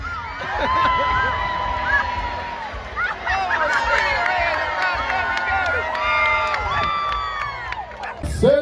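Loud crowd cheering and whooping with children shouting at a wiener dog race in Texas, a dense, sustained roar of mixed voices close by.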